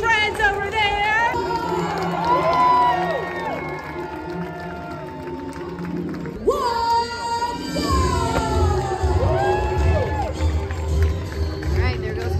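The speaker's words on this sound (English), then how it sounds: "So make some noise for our Royal Disney friends over there." A large crowd cheers and shouts at the start of a runDisney 10K race at Walt Disney World. An announcer's amplified voice carries over the crowd, with a brief surge of noise partway through.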